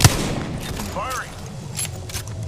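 Gunfire in the battle royale game Apex Legends, a quick sharp shot opening the clip followed by scattered lighter pops and a brief whooshing effect, all under faint game chatter.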